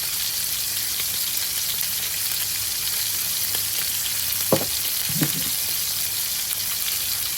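Food sizzling in a frying pan, a steady hiss of frying fat filling the clip, with a couple of brief clatters partway through and no talk.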